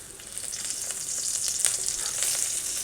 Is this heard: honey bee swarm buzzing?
no